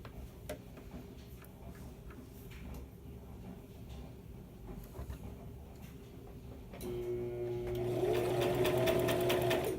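A sewing machine stitches fabric for high-waisted shorts, first faint ticking, then a steady whirring hum of the motor and needle that grows louder near the end.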